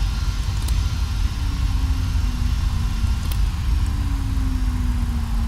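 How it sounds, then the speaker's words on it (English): Boeing 767 jet engines shutting down, a steady low rumble that fills the whole stretch with faint whining tones slowly falling in pitch as the engines spool down. "Go ahead, shut down the engines."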